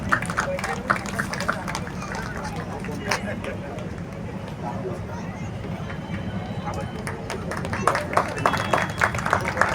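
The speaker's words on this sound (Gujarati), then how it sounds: "તાળીઓના ગડગડાથી વધાવી લઈએ।" A crowd at a community gathering for Lord Parshuram's birth celebration claps and applauds steadily for the community president. The applause is a dense, continuous patter that swells toward the end, with a voice speaking over it.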